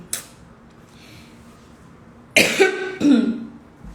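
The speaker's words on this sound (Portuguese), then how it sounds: "Essa tosse dessa virose não me deixa" A few harsh coughs from a viral illness near the end, two or three bursts close together, after a quiet stretch with a faint click at the start.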